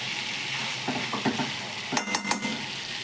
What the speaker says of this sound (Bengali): আলুটা দিয়ে এবারে আবার ভালো করে কষবো।